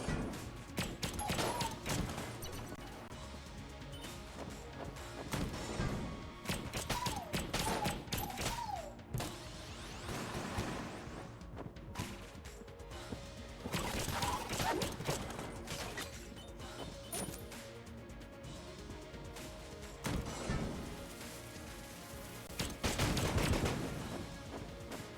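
Enemy gunfire in the video game Enter the Gungeon: dense, rapid volleys of shots and crashing impacts rattle on continuously through a busy, loud game mix, with no pauses.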